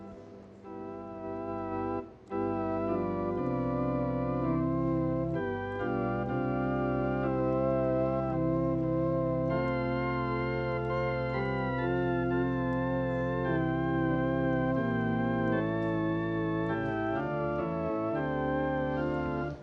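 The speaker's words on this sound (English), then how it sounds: "try to use the organ sound, because that's the original sacred sound." A hymn played on an electronic piano set to an organ voice, smooth sustained chords flowing continuously and fairly quietly, with no talking.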